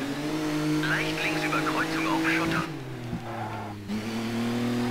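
In Colin McRae Dirt 3, a rally car's engine revs hard and then drops to a lower drone as it shifts, with tyres scrabbling on loose ground, heard up close without talk.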